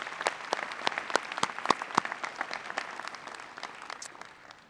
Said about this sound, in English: we should recognize them with our applause